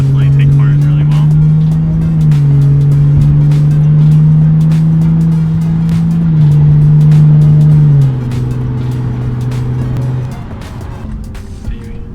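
A Lexus GS 350 with a Borla exhaust drives at night, its engine giving a loud, steady drone inside the cabin. The pitch holds, then steps down at several gear shifts, and the engine note eases off near the end.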